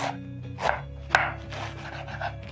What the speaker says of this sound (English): I'm going to switch to the chopping board and chop up my pumpkin leaves very fast.